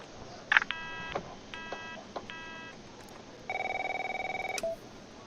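A telephone in The Operator video game gives short electronic beeping trills in several bursts, then a longer rapid ring, clear and close with no voices over it.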